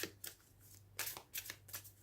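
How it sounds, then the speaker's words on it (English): Tarot cards shuffled by hand in repeated quick riffling bursts, close and crisp, with short pauses between shuffles and a faint steady hum underneath. "let's shuffle a little more"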